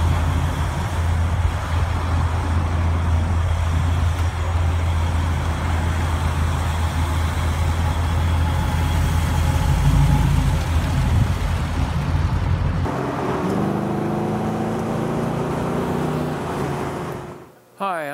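A 1932 Ford Roadster Highboy street rod driving along, its engine a steady low rumble close by that shifts partway through before cutting off abruptly, with some talking over it.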